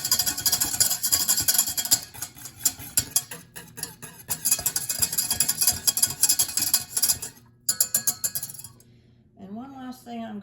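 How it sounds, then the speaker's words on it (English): A wire whisk mixing herbs into milk, rapid metallic clinking and scraping against the vessel in quick bursts, close and loud, pausing near the end before a short tone. "I'm just going to use my wire whisk to kind of incorporate all of the herbs into the milk"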